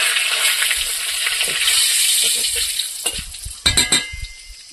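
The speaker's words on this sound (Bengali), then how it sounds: "তো আমাদের তেলটা গরম হয়ে গিয়েছে। এবারে আমরা এই তেজপাতাটা তেলের মধ্যে দিয়ে দেবো।" Bay leaf dropped into hot oil in a kadai while cooking a Bengali chicken curry, giving a steady bright sizzle that later breaks into a few sharp clinks and spatters of a utensil against the pan.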